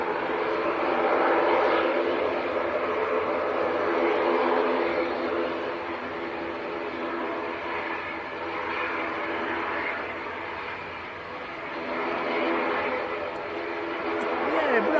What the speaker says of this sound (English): Looks like this ATR is going to backtrack pretty much all of the runway.